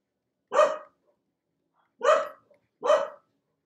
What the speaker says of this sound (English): I don't know what's going on with those dogs today.